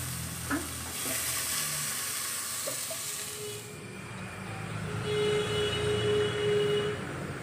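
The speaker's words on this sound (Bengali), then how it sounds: "আমি বাটার মাছটার কপিটা ভাজা হয়ে গেছে, এবার একটু মাছটা ভেজে নিচ্ছি" Bata fish fries in hot oil in a home kitchen pan, a continuous hissing sizzle that swells slightly toward the end, with faint background noises and no talking.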